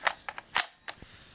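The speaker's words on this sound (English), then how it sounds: "On the body, we have a King Arms ambidextrous mag release." Sharp plastic-and-metal clicks from working the King Arms ambidextrous magazine release on a Noveske N4 airsoft rifle with a P mag, a handful of quick close snaps spread over a second and a half.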